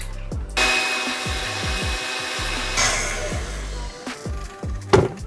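An electric hand mixer whips half a cup of whipping cream for Dalgona coffee, a steady high motor whir starting after half a second and running throughout, with a rhythmic low knocking of beaters against the bowl.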